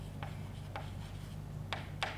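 Pen strokes scratch across paper as points are jotted down by hand, four short quiet bursts spaced irregularly with no talking.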